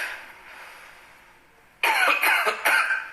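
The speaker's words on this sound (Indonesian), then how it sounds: "batuknya baru hari ini sih, parah banget hari ini tuh" A person in a hospital with a severe cough that began the same day breaks into a harsh, close coughing fit of three quick bursts after a quiet stretch.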